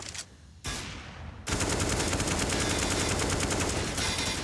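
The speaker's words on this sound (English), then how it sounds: "Okay, that's a nice shot onto Electronic." Rapid automatic gunfire from the tactical shooter CS:GO on the Cache map in a pro match, sustained bursts of close, loud shots filling most of the stretch after a brief quieter opening.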